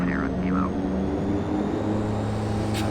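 Wideroe Twin Otter twin-turboprop in a flight simulator holding on a runway in Norway before departure, its steady engine drone and low hum continuous throughout, with a voice speaking briefly early on.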